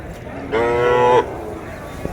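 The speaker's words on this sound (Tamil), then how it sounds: "இது வந்து காளைக்கன்று" A bull calf at a busy cattle market gives a single clear moo lasting under a second, close and loud above a background of faint crowd murmur.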